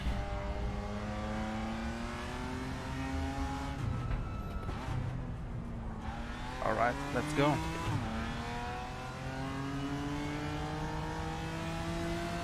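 A race car engine revs and shifts through gears in the RaceRoom sim, rising and falling pitch sweeps with a brief lift, loud and close, while a voice speaks briefly over it.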